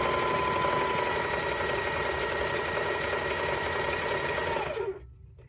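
A sewing machine stitches a Halloween cat quilt block in one continuous close, loud run of fast rhythmic chatter, then cuts off abruptly near the end.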